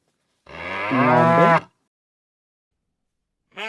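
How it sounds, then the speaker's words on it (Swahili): A domestic cow gives one long, loud, close moo that rises and then cuts off. After a pause, a second call begins. "ng'ombe,"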